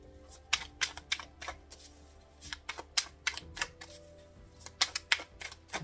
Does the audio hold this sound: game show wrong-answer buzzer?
no